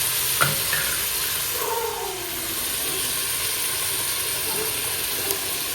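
Tomatoes and ground biryani masala fry in a pan, giving a steady, fairly loud sizzling hiss that runs without a break, with a few faint clinks and scrapes and no talking.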